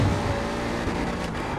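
A race car engine in a racing video game drones steadily for a brief moment, a buzzy mid-range hum with slight pitch wavering, no voices over it.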